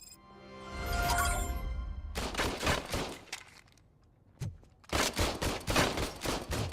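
Gunfire in Robocop: Rogue City, a long rolling fusillade of loud close shots, then dense rapid bursts after a brief lull, with a sharp single report between.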